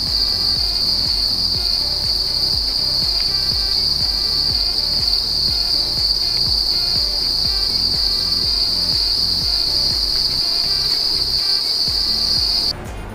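A dense, loud chorus of crickets chirping continuously, a steady high trill with a pulsing rhythm underneath, filling the whole stretch without pause.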